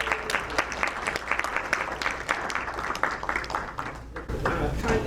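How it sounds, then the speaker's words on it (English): A school audience gathered for a Kindness Week student event applauds, with a steady spread of clapping hands and a few sharper claps standing out, and a brief shift in room sound near the end. "Let's give a round of applause for that."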